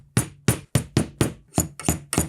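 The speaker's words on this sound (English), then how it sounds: "I'm going to give them a little tap with a hammer" A hammer taps wooden pieces into a CNC-cut guitar body, striking eight sharp, close blows in a fairly steady rhythm with no talking.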